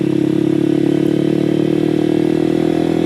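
A KPR 200 motorcycle rides along with a steady, droning mid-pitched engine note and a constant buzzing hum held at an even loudness, with no voices.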